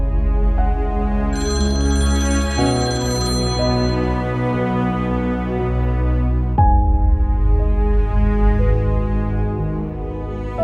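A phone rings loudly and steadily throughout, a repeating electronic ringtone melody with sustained tones that shift pitch partway through, with no voices over it.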